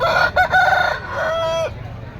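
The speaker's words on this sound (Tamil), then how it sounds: "சேவல் கட்டி வச்சுருக்காங்க ஒன்றத்தில் தான் இருக்குது" A rooster crows close by at a poultry market, a single full cock-a-doodle-doo with a long drawn-out final note.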